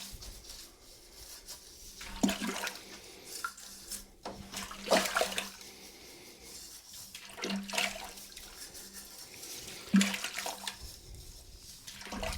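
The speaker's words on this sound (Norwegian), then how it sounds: "Da tar jeg oppvaskbørsten, og så vasker jeg langs kantene først." Home brewing equipment being scrubbed with a dish brush and water: bursts of sloshing and splashing water, with brush strokes along the edges that come and go in uneven waves, fairly close, with no speech.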